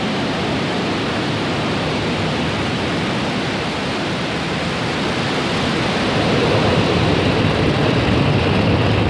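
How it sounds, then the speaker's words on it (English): A SpaceX rocket lifts off carrying the Türksat 6A satellite, a loud, dense, continuous roar with no break that swells slightly louder toward the end. "Ignition and liftoff."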